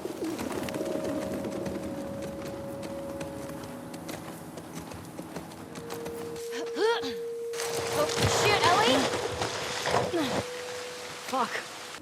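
Birds in a Seattle forest in The Last of Us Part II give sustained tonal calls and chirps over soft ambience, with rhythmic hoof clops and a voice talking over it.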